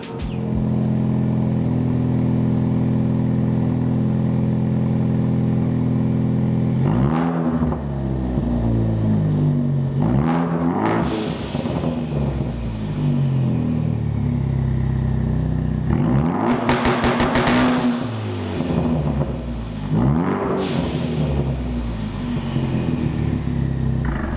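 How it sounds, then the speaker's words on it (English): A Ford Focus ST with a modified exhaust idles in a garage with a deep rumble, then revs up sharply several times, the exhaust roaring loud and close between steady idling stretches. "let's get to an exhaust sound clip"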